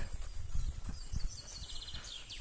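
Horses grazing in a forest mountain meadow, with soft thuds and rustling of hooves and movement close by, plus faint high birdsong or bells in the background.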